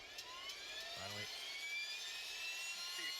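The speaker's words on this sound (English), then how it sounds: "Talon 1, you're clear for engine startup." A military aircraft engine spools up in a multiplayer combat game, a rising turbine whine with a steady, building roar that runs through the whole short stretch, loud and near, with no talk over it.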